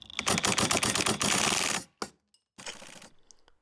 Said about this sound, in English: I use the Tusk case splitter.